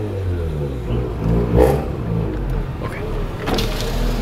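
Mazda RX-8 rotary engine revving, a low, throaty drone rising in a few surges with some rattle, heard from near the car under faint background noise.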